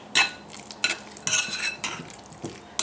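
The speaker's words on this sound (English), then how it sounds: "I'm going to mix it real good, and this isn't difficult because your cream cheese is room temperature." Spoon mixing room-temperature cream cheese and chipped beef dip in a bowl, a close series of wet scraping strokes and clinks against the bowl in an uneven rhythm.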